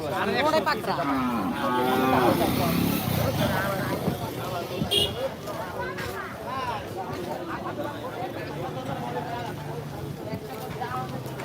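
Local Bangladeshi cattle low in a crowded, noisy market at Postogola, their moos mixed with steady chatter, shouting and distant traffic.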